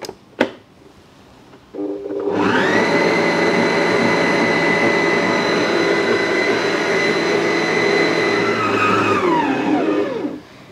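Electric stand mixer kneading pandan bread dough after milk powder is added: a click, then the motor spins up into a steady loud whine with a low rumble, running for about eight seconds before winding down.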